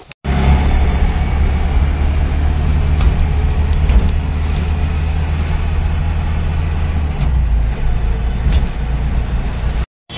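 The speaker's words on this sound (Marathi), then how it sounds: "रत्नागिरी आणि रत्नागिरीतला ट्रॅफिक" Road traffic in Ratnagiri rumbles past close by, with car and bus engines, a continuous low drone and occasional brake hisses and clatters over about ten seconds.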